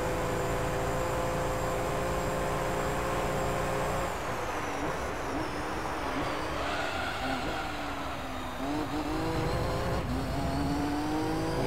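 A Nismo race car engine in Gran Turismo 3 revs and drones loudly and continuously, pitch rising and falling with shifts and acceleration, tyre and road noise mixed in.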